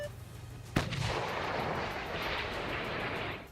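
A self-propelled howitzer fires with one sharp, heavy blast, followed by a long rolling rumble and roar that stays loud for several seconds; no voices.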